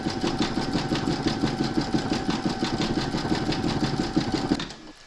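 An embroidery sewing machine stitches with metallic thread in a fast, steady mechanical rhythm, close and continuous, before stopping abruptly near the end.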